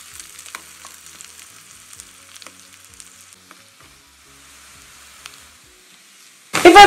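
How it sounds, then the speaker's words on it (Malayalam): Curry leaves hiss and crackle in oil in a pan of Kerala-style Kolaan fish curry, a steady close sizzle with small pops and stirring clicks, ending in a sudden loud burst as more goes in. "ഇതിലേക്ക് കുറച്ച് നമുക്ക് കറിവേപ്പില ഇട്ട് കൊടുക്കാം കേട്ടോ."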